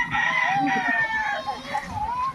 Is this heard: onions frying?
no